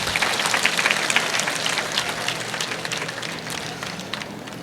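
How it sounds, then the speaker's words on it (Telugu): An audience at a church festival in Khammam claps steadily, a dense wash of applause that gradually fades out without talk. "చప్పట్లు కొట్టరా దీనికి?"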